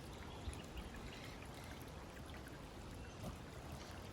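Water bottles filled from a clear, cool stream at a motorbike campsite: a soft, continuous trickle and gurgle of flowing water, quiet and steady throughout.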